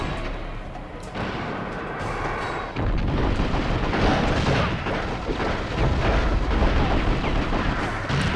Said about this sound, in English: we got some more fire bombs